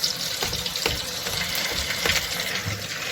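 Flour-coated mackerel frying in oil, a steady loud sizzle and crackle with constant hiss throughout, no voices.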